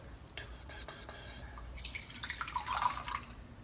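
Hot water poured into a drink containing a tablespoon of apple cider vinegar, a soft liquid trickle that builds into a brighter, louder pour near the end, close and fairly quiet.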